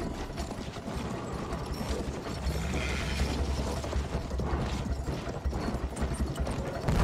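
A horse galloping in the Battlefield 1 video game, with a rapid, continuous patter of hooves under rattling, clattering mechanical battle noise, moderately loud and steady, with no talk.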